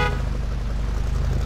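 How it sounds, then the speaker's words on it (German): A truck horn in the off-road driving game MudRunner American Wilds sounds one steady, loud, sustained honk that fills the whole moment, with a low engine rumble underneath. "Immer mal wieder hupen."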